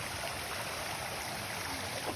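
A creek near Uloola Falls in Royal National Park flows with a constant, even rush of water, heard close and alone without any talk.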